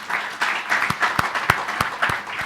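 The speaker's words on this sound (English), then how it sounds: "Once again, big round of applause, ladies and gentlemen, for Maddie" An audience applauds at a product launch event, with moderate clapping and several sharp, louder individual claps standing out near the front, steady for a couple of seconds.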